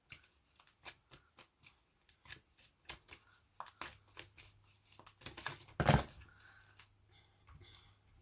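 A tarot deck is shuffled by hand, giving repeated crisp riffling flicks and soft slaps that are close and fairly quiet, building to one louder burst of cascading cards before a few settling taps.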